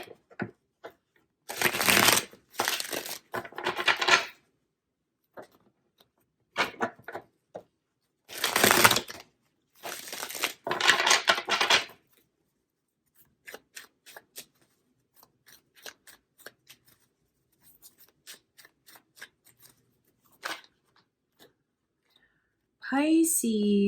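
Tarot cards being shuffled by hand in bursts of crisp riffling and flicking, close and dry, separated by quiet pauses and lighter taps, ending with a brief sound that may be a voice.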